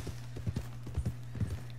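Hooves of a white Arabian horse clip-clop in Red Dead Redemption 2, a steady close trotting rhythm of sharp knocks over a low constant hum.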